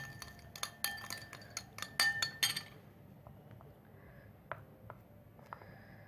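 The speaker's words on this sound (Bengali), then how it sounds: "একটু ভালোভাবে মিক্সড করে দেবো চিনি এবং টক দই।" A spoon stirring sour yogurt with a teaspoon of sugar in a bowl, for a yogurt sandwich: a quick run of sharp, bright clinks close by, then a few sparser taps fading out, no talk.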